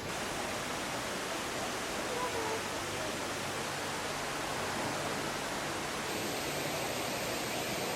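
Steady, dense roar of falling water from a waterfall inside the Eden Project's rainforest biome, continuous and fairly loud throughout.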